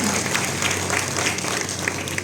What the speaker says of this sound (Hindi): संजू सर के लिए जोरदार ताली बजा दीजिए प्लीज